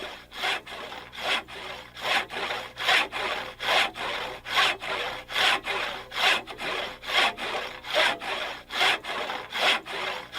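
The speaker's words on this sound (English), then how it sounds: "There is a rhythm to the saw as its teeth eat back and forth into the deepening cut." A hand saw cuts back and forth through dry standing spruce timber in the wilderness, a steady rhythmic rasp of roughly twenty strokes, close and clear with no talking.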